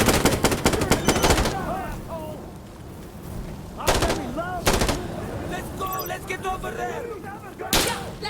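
Dense bursts of automatic rifle and machine-gun fire in Insurgency: Sandstorm, loud volleys at the start and again at intervals, with sporadic shots and rumble in between and someone talking over the firefight.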